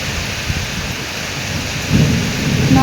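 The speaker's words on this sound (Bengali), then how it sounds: "প্রচণ্ড ঝড় বৃষ্টি হচ্ছে" A heavy rainstorm pours down steadily while deep thunder rumbles underneath, swelling louder near the end.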